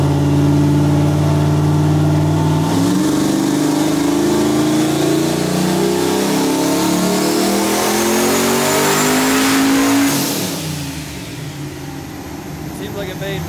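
An LS V8-swapped Mazda RX-7 running big boost revs hard and close: a loud rising engine sweep climbs for several seconds, cuts off abruptly, and falls back to a rough idle, with voices underneath.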